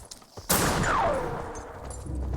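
Rifle gunfire in a first-person shooter video game: a loud sharp shot bursts out, then a long ringing echo tails off into steady background game noise.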